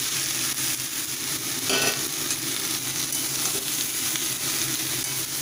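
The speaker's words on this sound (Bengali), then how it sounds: "এবার ভাজা ফুলকপি এবং আলুর টুকরোগুলো এর মধ্যে অ্যাড করে দেব।" Fried cauliflower and potato pieces sizzle steadily in a hot pan of spices for a fish curry, with soft stirring scrapes under the continuous loud hiss.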